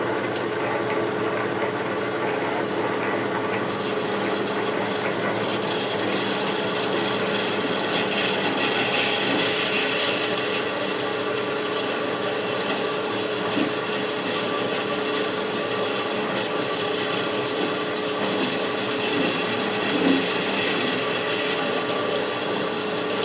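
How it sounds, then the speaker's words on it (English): Metal lathe running in reverse with an upside-down parting tool cutting into hard steel while machining R8 tooling for a Bridgeport mill, giving a steady, close grinding and scraping tone with no speech. "So I'll flip the tool upside down, run the lathe in reverse, and it's cured the problem."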